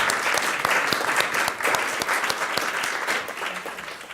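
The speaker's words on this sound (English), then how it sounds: "That clapping wouldn't have been the same without you." Students applaud at a school district governing board meeting, steady dense clapping that fills the whole stretch at an even level with no speech over it.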